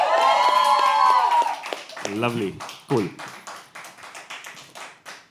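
Audience clapping at a live poetry open mic, scattered hand claps building into a steady patter of applause after a short spoken exchange, with a voice talking at the start.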